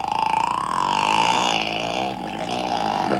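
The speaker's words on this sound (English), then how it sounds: "Here's a killer whale sound." Killer whale vocalization: a sustained, nasal, buzzy call wavering in pitch for about three seconds, loud and close with no pauses.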